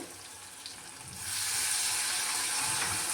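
Leftover water splashes into a hot pan of mutton, and a moderate sizzle jumps into a loud, steady hiss of steam and frying that holds to the end.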